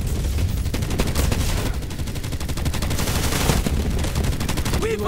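Continuous automatic gunfire from Borderlands 3 combat, dense and loud rapid bursts filling the whole stretch with no pause, a faint voice barely present underneath.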